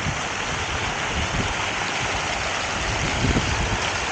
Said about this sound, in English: So we have some water fountains here. You can see them, these water fountains here.